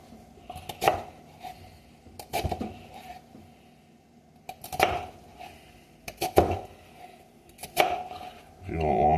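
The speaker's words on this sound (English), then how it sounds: "I find it's the fastest, easiest way to cut an onion without crying" A knife slicing lengthwise through an onion on a cutting board, five or six crisp chopping strokes spaced a second or two apart, close and clear with quiet pauses between, ending in a rougher scrape.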